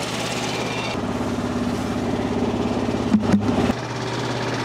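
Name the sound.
tractor dumping its bucket, engine running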